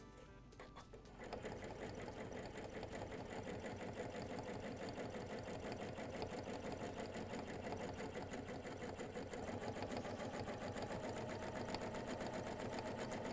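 Sewing machine free-motion stitching to couch yarn, starting after a brief pause and then running fast and continuous in a steady mechanical rattle, close and moderately quiet, with no talk.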